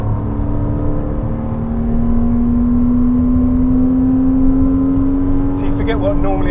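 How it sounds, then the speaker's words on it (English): Naturally aspirated Porsche Cayman 987 engine on a race track, heard from the passenger seat as a loud, steady droning note that slowly rises in pitch, with people talking over it. "normally aspirated engine sound"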